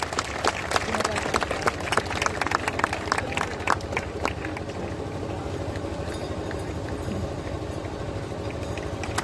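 An outdoor audience claps for prize winners at a Run for Birsa event, dense applause in the first half that thins into scattered claps, with a voice in the background.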